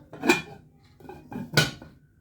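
A ceramic Turkish cooking pot is handled, giving two short clinking knocks, each followed by a quieter rattle, close and alone without talk.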